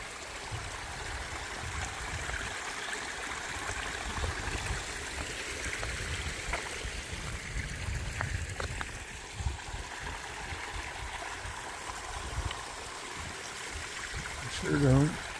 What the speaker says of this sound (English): After lunch, got this nice little stream.